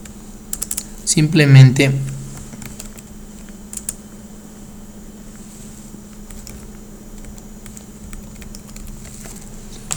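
Keys clatter in a quick burst of typing on a computer keyboard, close and fairly loud, then a few isolated taps follow over steady room hum; a voice speaks briefly.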